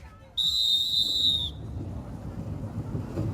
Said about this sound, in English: Whistles blown, engine started, lights will be watched.